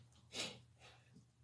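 A single short nasal blow or snort, faint and close, with a brief breathy tail and quieter follow-up exhale.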